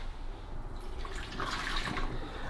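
Used descaling solution from a Nescafe Dolce Gusto coffee machine's drip tray pouring out into a sink, a splashing, gurgling water stream that swells louder midway, with no voices.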